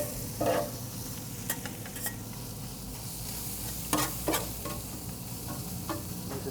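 Brisket sizzles steadily on a hot griddle with rendering tallow, broken by scattered scraping clicks and knocks as a spatula flips and turns the meat, no voices over the constant frying hiss.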